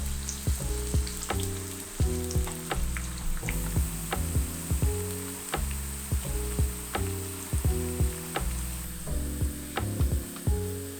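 Chicken biryani ingredients frying in hot, spattering oil produce a loud, continuous close sizzle. Sharp pops and clicks break through it at fairly regular intervals, with no voices heard.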